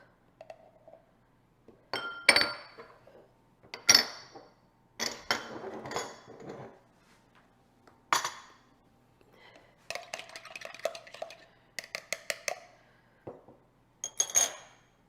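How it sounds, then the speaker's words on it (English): Vanilla and milk are mixed in a bowl for a New York style crumb cake, with sparse, close clinks and taps of a utensil against the bowl separated by quiet gaps. "Going to mix up my vanilla and milk."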